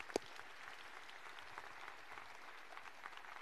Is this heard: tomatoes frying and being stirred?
no